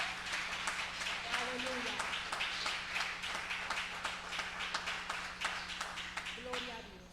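A church congregation claps strongly in praise of Jesus Christ, a dense sustained wash of hand claps with a low steady hum beneath and a voice calling out briefly over it.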